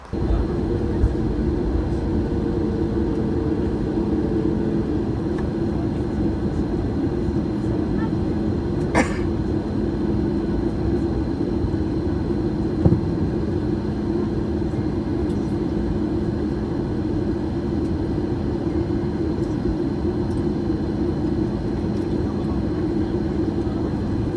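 A Southwest Airlines jet taxis after landing, heard from inside the cabin as a steady loud engine and air hum with faint brief clicks.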